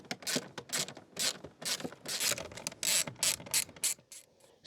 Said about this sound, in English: to remove these bolts, we need the T25 Torx bit